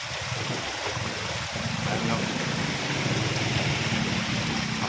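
Loud continuous rushing and churning of water as a pedicab pushes through deep flood water at high tide in Panginay, Balagtas, Bulacan, with a low engine rumble underneath.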